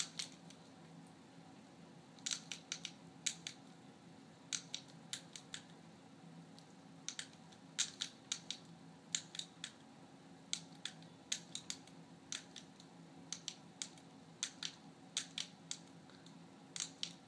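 Five-button chord keyboard being typed on: quiet, sharp clicks in small clusters, spread unevenly across the stretch over a faint background hum.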